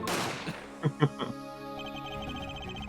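Gunshot sound effect from the Apollo Justice: Ace Attorney video game: a quick cluster of three or four sharp bangs over steady game music.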